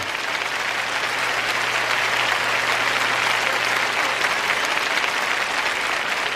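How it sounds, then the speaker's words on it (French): An audience at a French-language Christian teaching event applauds, a dense, steady wash of clapping from a crowd that holds evenly for several seconds with no voice over it. "Vous n'êtes pas enthousiasmé, mais vous applaudissez au moins."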